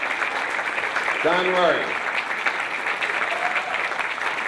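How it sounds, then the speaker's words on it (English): A seated audience at a presentation claps in a steady round of applause throughout, while a man calls out over it. "So I'd like you all to stand up, give Don a big round of applause."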